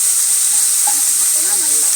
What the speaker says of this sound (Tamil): கொஞ்சம் வேக வச்ச பாவக்காயை இதில் இது நல்லா இந்த எண்ணெயில் நல்லா வதங்கணும்.